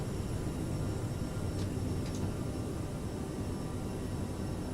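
PMDG 737 airliner in a flight simulator on its takeoff roll and rotation: a loud, steady jet engine roar with broadband rumble that holds constant throughout, no voices.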